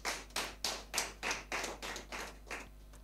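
A congregation applauds in a church service, about ten rhythmic, evenly spaced hand claps that sound like one close clapper, with no talk.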